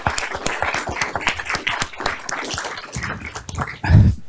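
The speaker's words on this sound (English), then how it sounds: "Let's give these students a round of applause to give them the attention they deserve." A school board meeting audience gives students a round of applause, dense clapping heard steadily from near by throughout, rising into a louder thump at the end.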